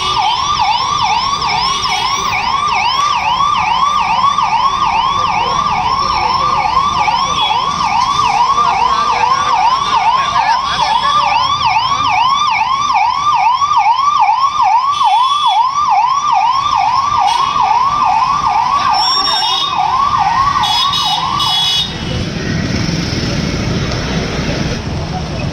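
An ambulance siren wails in a rising and falling cycle, loud and close, for about twenty seconds before cutting off, with street noise and voices around it after a road accident near a flyover.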